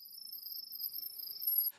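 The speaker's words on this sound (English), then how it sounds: "You will now hear your smart device make a loud chirping noise that sounds like this." A smart device sends a loud, high-pitched continuous chirping tone while pairing an Imou camera, a steady warbling electronic sound that holds for under two seconds and then cuts off, heard alone.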